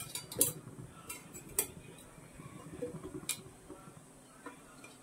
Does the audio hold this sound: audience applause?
no